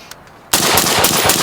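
Suppressed rifle fire through an Energetic Armament Ferox suppressor starts suddenly after a short quiet pause, then runs as a rapid, loud string of shots.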